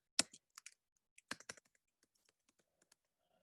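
Typing on a computer keyboard while naming a design file, a few quick, quiet clusters of key clicks followed by sparse single taps fading out, no speech.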